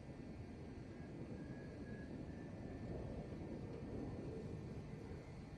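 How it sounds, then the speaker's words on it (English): Helicopters in the video game James Cameron's Avatar give off a steady, low droning rotor and engine roar, continuous and fairly distant, with no talk over it. "Oh, there's helicopters."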